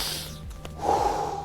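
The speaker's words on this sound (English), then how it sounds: "Let's give it a little sniff." A person gives a freshly caught bream a quick sniff outdoors while fishing, a short close snort of breath followed by a brief huff.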